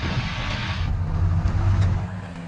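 Loud, steady engine noise comes from a Fiat Panda Cross grinding its way up a steep off-road incline, heard close up with no voices.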